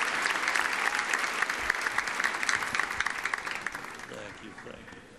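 A church congregation at a Lagoinha Baptist service applauds a couple in dense, steady clapping that fills the room, then thins out as a few voices rise near the end.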